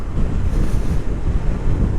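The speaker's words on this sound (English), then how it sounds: "as it is a naked bike and you are going to get the wind full on into your centre of the chest and obviously your helmet" Steady, loud wind roar buffets the rider of a Triumph Speed Twin naked motorcycle at road speed, a continuous low rumbling rush with no talking.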